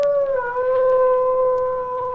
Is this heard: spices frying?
no